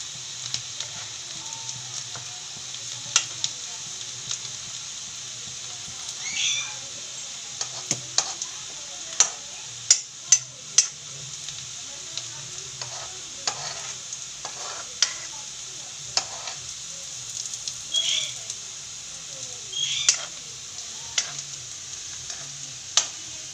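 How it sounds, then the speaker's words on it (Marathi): Onions frying with cumin seeds and garlic in a pan for Khandeshi pithla, a low steady sizzle broken by frequent clicks and scrapes of stirring, moderately near and without talk. "त्याच्यामध्ये मी कांदे चांगले लाल होऊ द्यायचे"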